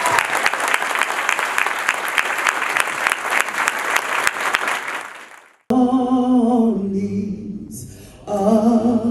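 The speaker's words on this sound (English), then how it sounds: "Can you give them a round of applause, please?" A crowd at a ceremony applauds loudly for about five seconds after a national anthem performance, then the clapping fades out and a sung or musical passage follows.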